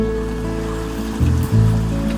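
Water surges and rushes into a broad canal lock on the Leeds and Liverpool Canal, a continuous loud churning wash with a low steady rumble and brief swells of stronger flow.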